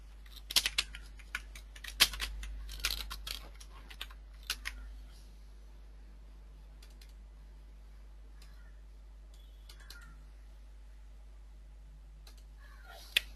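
Keystrokes on a computer keyboard while working in an Excel VBA macro, a quick cluster of clicks in the first seconds and then a few isolated taps, close and fairly quiet.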